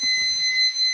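A steady electronic beep tone from a car gauge in a Subaru GC8 centre gauge pod, loud and close, holding continuously for the full second with faint rumble underneath.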